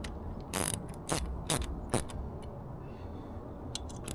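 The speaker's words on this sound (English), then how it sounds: "So now you can get your 10mm socket or ratchet wrench, whatever you got, and start tightening things down." Socket ratchet wrench tightening the water pump bolts on a 25hp Yamaha outboard, heard as four short, close clicking bursts in steady succession, followed by a quieter faint clicking near the end.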